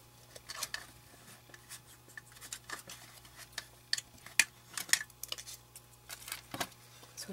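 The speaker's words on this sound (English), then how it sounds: "I'm going to pop these also into my sticker maker." A sticker maker runs quietly while paper feeds through and the backing tab is pulled, producing faint scratchy rustles and small ticking clicks with a soft hum beneath them.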